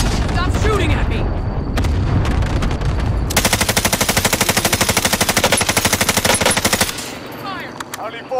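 Video game combat with rapid sustained machine-gun bursts and heavy impacts from an allied cluster strike, loud and continuous for several seconds, with a voice shouting over the shooting.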